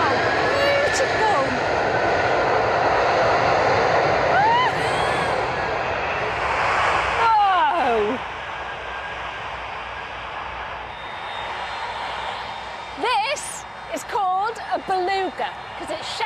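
Engines of a Beluga transport aircraft give a loud, steady roar that eases after several seconds into a lower hum, with voices talking over it.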